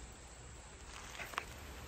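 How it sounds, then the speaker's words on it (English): Rain falls outdoors over a rice-growing plot, making a steady, soft broadband patter with a faint tap or two and no talking. "as you can see, it's raining"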